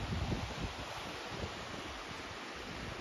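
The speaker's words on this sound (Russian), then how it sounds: "Прохладный ветер." Cool wind blows steadily at an outdoor seaside spot in Bernāti, Latvia, a soft, even broadband rush with a slightly stronger gust at the start, faint and without talk.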